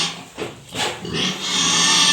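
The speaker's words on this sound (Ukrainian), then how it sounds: "А сюди до нас приїхала ось така свиноматка." A newly arrived F1 sow grunts and squeals in a pen, loud and close, with rough snorting bursts that build into a sustained harsh squeal.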